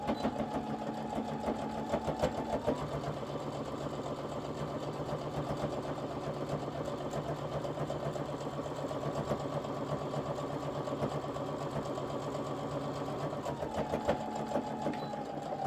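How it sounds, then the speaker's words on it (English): A sewing machine runs continuously and close by while back stitching over the kangaroo pocket edge of an athletic tank top, making a steady mechanical whir for about fifteen seconds with only slight changes in pace. "you're going to back stitch when you go over the edge of the kangaroo pocket"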